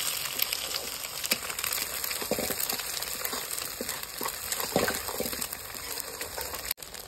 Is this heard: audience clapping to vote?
no